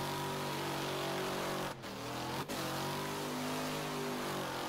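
The Piper MKII car driven in the racing game Wreckfest, its engine droning steadily with two brief gear-shift dips as revs climb again, constant and fairly quiet with no talk.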